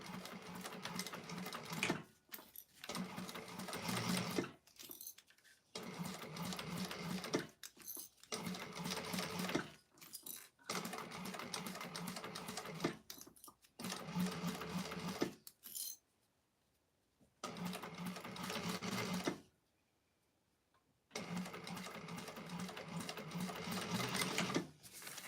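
A sewing machine stitches a seam on a Betty Bowler Bag exterior, running in several bursts of rapid mechanical whirring separated by short pauses and two longer silences, with no speech.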